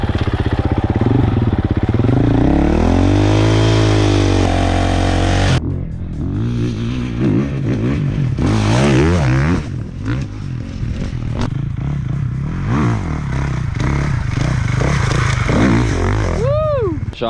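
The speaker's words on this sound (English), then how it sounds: "2024 KTM 450 SXF Factory Edition" 2024 KTM 450 SXF Factory Edition dirt bike revving hard up and down, close and loud, with clattering and scraping as it rides, and voices talking over parts of it.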